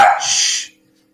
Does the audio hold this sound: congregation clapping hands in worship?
no